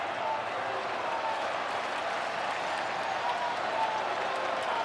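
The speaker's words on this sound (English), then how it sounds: "Sellout crowd here in Milwaukee on their feet." Sellout baseball crowd on its feet in a Milwaukee stadium during an NLCS playoff game, a dense steady roar of cheering and applause holding at full level throughout.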